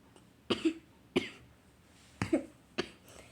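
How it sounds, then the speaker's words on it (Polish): Four separate coughs, each sharp and short with a brief second burst, spaced irregularly against a quiet background. "sorry za mój kaszel"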